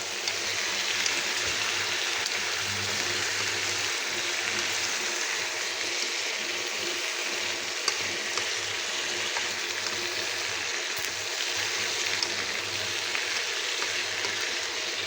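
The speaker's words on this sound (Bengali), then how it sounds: "এবার আলুর সাথে কাঁঠালটাও ভাজা ভাজা করে নিব।" Potatoes and jackfruit frying together in a pan, with a steady broadband sizzle that runs unbroken throughout, moderately loud and close, with no voices and only the faintest clicks of movement.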